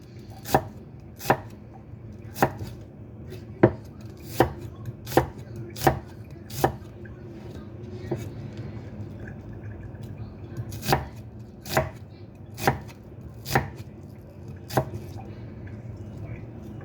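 A small Indian onion is thinly sliced with a knife on a cutting board, crisp chopping taps landing in steady runs of about eight quick strokes, a pause, then four or five more, close and clear with no talk.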